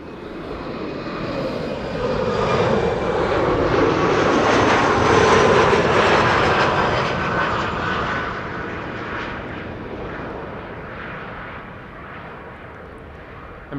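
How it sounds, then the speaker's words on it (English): LOT passenger jet passing overhead near Amsterdam Schiphol, a broad loud roar that swells to a peak around the middle and then slowly fades, with a high whining tone running through it. "I think we are going to see LOT flight 263 pass overhead shortly."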